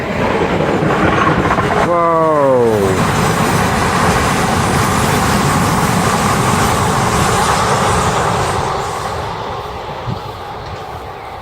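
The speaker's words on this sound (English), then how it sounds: "Here comes the train now." A train rumbles past close by at Barnetts Wood Nature Reserve, a loud continuous roar with a horn blast early on, while a person exclaims briefly over the noise.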